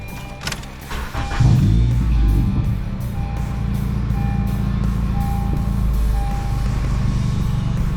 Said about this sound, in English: we're going to start the car back up and check the system.